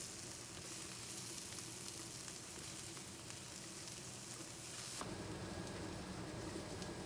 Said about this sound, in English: While the vegetables are sauteing